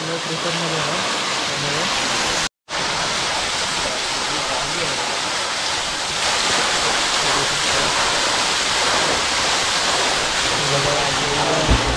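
Small forest waterfall in a jungle stream at night, a dense continuous rushing hiss of falling water, steady and fairly loud, with one brief dropout early on.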